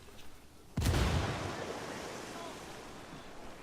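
A frag grenade explodes in the Ghost Recon Wildlands video game, a single sudden heavy blast whose rumbling roar slowly fades, after a voice is briefly heard.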